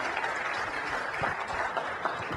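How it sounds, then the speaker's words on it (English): An audience gives a round of applause: a dense, even wash of many hands clapping at once, steady and fairly close for a couple of seconds. "can we give Lisa a big round of applause?"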